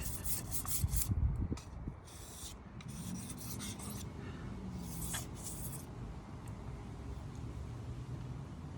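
A kitchen knife is drawn across a sharpening stone in a rough rasping scrape, a dense cluster of strokes at first, then a quieter pause and another burst of strokes, close by with no talking.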